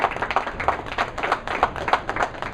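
A crowd at a bowling match claps in quick, uneven bursts, fairly close and lively, without talk over it.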